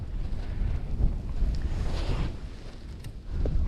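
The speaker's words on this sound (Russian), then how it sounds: "Пусть лучше уж мороз, чем такой ветер с метелью" Strong wind in a snowstorm roars against the microphone at an outdoor winter fishing spot, a steady, dense rumble with gusty swells and no speech.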